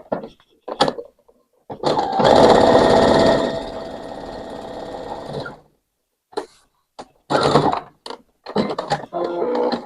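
Sewing machine stitching fabric for a gingerbread rag doll, a steady mechanical whirring run lasting a few seconds, then short start-stop bursts of stitching separated by pauses.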